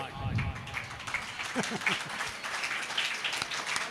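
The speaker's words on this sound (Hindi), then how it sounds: "आप तालियां वालियां बजाता रहो" Audience applause at a Hindi kavi sammelan poetry gathering, a steady crowd clapping that runs under a speaking voice for a few seconds.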